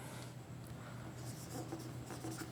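An equation is written by hand on paper, a faint, close scratching of pen strokes over a quiet hum, with the scribbling growing busier in short bursts toward the end.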